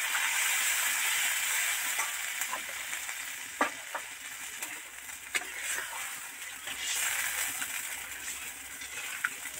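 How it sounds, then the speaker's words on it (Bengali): Water poured into a pan of sizzling spiced katla fish curry with cauliflower, a steady loud frying hiss with scattered sharp crackles and pops continuing throughout, no talking. "মশলা থেকে তেল ছেড়ে গেছে, এবার জল দিয়ে দেবো"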